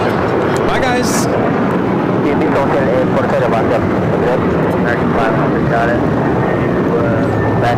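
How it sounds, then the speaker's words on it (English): United Airlines 1621, a Boeing 737-900ER, takes off from LAX for Orlando with a loud, rumbling engine roar and rising whine, and people talk throughout. "1621 taking off to Orlando on the 737-900ER"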